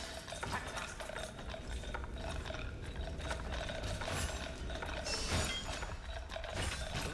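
A Ratling gunner's gun winds up in Warhammer Vermintide, giving a steady, dense mechanical ratcheting whir that runs unbroken throughout at moderate loudness, with a brief sharper burst near the end.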